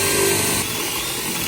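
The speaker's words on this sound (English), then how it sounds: "We're just gonna drill right through the front of one of these." Power drill boring a 1 3/4 inch hole through the wooden front of a birdhouse, a loud close whine of the motor that drops in pitch partway through as the bit cuts.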